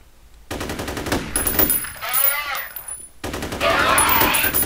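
Rapid automatic gunfire from enemies in the video game F.E.A.R. rattles in dense bursts with a short break, loud and close, and someone talks over part of it.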